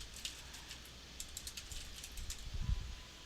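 Console commands for Fallout 4 being typed on a computer keyboard, quick, faint clusters of key clicks with short pauses between them and no talking.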